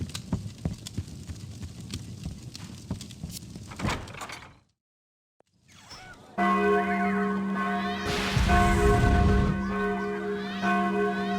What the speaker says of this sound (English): Tal, the alarm bells are ringing